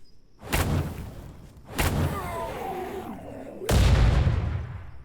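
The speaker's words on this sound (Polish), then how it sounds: "Wybuch jeszcze na koniec" Dynamite blasts in the zombie game Night of the Dead: three heavy booms in sequence, each a loud, broad burst with a rumbling tail, the last the biggest and longest.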